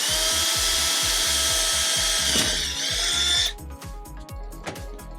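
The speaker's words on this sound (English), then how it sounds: "go ahead and we're going to drill it." A power drill whirs steadily for a few seconds, biting into wood while mounting an engine room electrical panel on a boat, then winds down with brief bursts and a final short rev.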